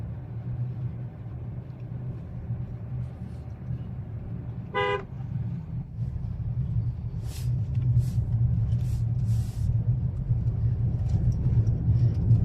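A car slows to a stop on a winding mountain road through the Patratu valley, its engine rumbling low and steady while a short horn toot sounds partway through and faint voices talk.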